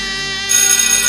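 A phone ringtone plays steadily, a bright electronic melody that grows louder halfway through, with no voices.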